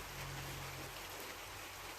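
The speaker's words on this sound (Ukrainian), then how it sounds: "Ну, хоч добре, що йде дощик ці дні." Steady rain falls in a dense, even hiss, continuous throughout with a low rumbling undertone.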